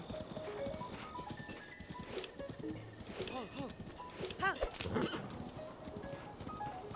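A horse clip-clopping across terrain in Zelda: Breath of the Wild, rhythmic hoofbeats running steadily beneath talking and game sounds.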